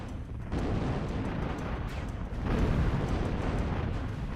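Snitch units detonating in the Zero-K strategy game: a loud, rumbling barrage of explosions and blasts with no gaps, building to a heavier burst partway through.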